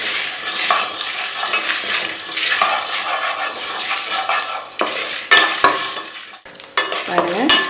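Cumin, pepper and fenugreek crackle and sizzle in hot oil in a pan for sambar, loud and close, broken by scraping stirs and clinks of a utensil against the pan.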